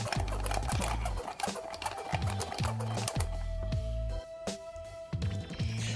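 An electric mixer churns sugar cookie dough in a rhythmic, whirring pulse of starts and stops, loud and close, with no talking over it.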